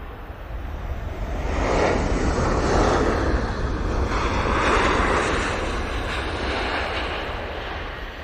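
A Ryanair airliner touches down on the runway, a broad, steady roar of engine and rushing air swelling and holding loud for several seconds before easing slightly, with no voices.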